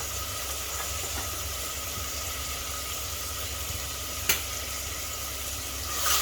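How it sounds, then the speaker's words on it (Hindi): Salt, red chili powder and turmeric fry in a pan while a Sindhi-style methi matar pulao is cooked, producing a steady, even sizzle and hiss that runs throughout with no voices. "अब इन्हें भून लेते हैं मसालों को 2 मिनट के लिए।"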